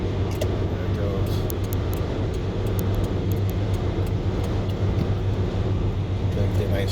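A 1993 Chevrolet Camaro Z28 Suffolk County Police highway patrol car drives past amid steady road traffic, its engine a continuous loud drone heard from inside a following vehicle, with people talking.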